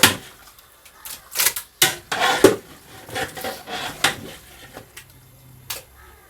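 A spoon stirs salt into a pot of Kerala-style chicken curry, making a series of close, irregular clanks and scrapes against the metal with short pauses between strokes.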